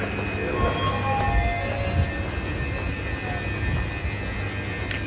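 Passenger train rolling on rails during a holiday trip near Samarkand, Uzbekistan, with a steady loud rumble and clatter of wheels, faint squealing tones riding above the continuous noise.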